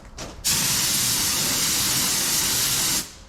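A spray gun blasts a steady, loud hiss for about two and a half seconds after a brief short burst, then stops.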